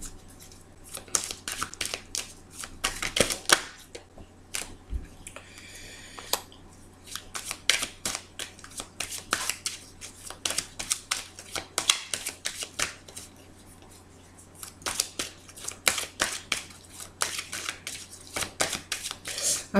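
Tarot cards being shuffled in a reading, giving repeated quick riffling and snapping bursts at close range, with short pauses between runs and a steady low hum underneath.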